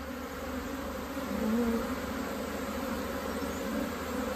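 Honey bees fan at the entrance of a newly hived swarm, making a dense, steady buzzing hum that swells slightly midway and carries on without a break.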